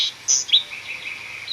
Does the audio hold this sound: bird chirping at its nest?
yes